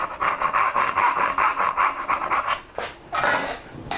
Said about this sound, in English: the saw's not going to wander. It's just going to follow the kerf that you've already cut